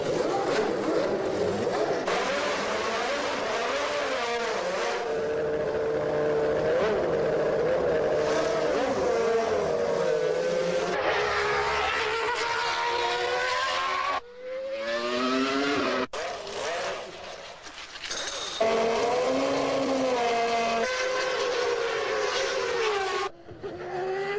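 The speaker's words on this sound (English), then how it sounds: "To those who find merely the sound of high-performance engines entrancing" Formula One racing car engines from the 1993 Williams team scream at high revs, rising and falling as cars pass, with gear changes and brief gaps between runs.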